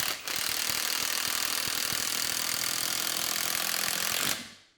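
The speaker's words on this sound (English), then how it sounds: "this is basically a 21 volt cordless driver, and that is a hot bolt." 21-volt cordless impact driver driving a bolt, one continuous loud rattling hammer burst lasting about four seconds, close, then cutting off.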